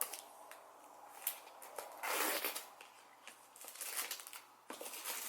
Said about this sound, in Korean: 비닐 뜯었어.